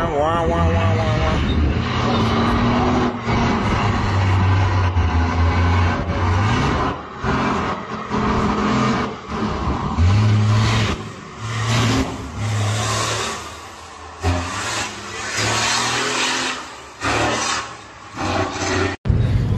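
A drift car's engine roars and revs hard at an RDS GP drift event as the car slides sideways, the throttle rising and dipping repeatedly, while a voice speaks over the engine noise.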